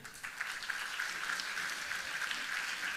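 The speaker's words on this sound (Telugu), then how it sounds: "చప్పట్లు కొట్టండి." A congregation applauds at a Catholic church feast for Our Lady of Mount Carmel, giving steady, dense clapping that holds at an even level throughout without pause.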